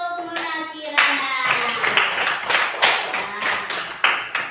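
Children in a classroom clap hands in a series of sharp, close claps with an uneven rhythm, over a teacher's voice speaking.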